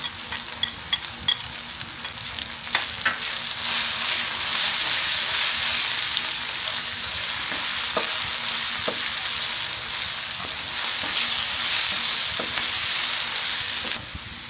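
Chilli, turmeric, coriander and triple-C masala powders stir-frying in a pan for mutton kulambu, a steady close sizzle with scraping stirs and spoon clicks throughout, no talking.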